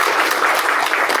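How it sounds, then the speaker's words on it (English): An orientation audience claps in applause for partners at a kickoff event, a dense, sustained wash of many hands throughout the short burst. "give a round of applause for all my partners in the room"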